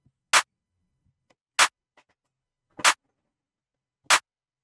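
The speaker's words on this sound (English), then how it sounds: "And then I added this clap." Crisp sampled clap from a beat made in FL Studio, four bright snappy hits evenly spaced about a second and a quarter apart, alone with faint ticks between them.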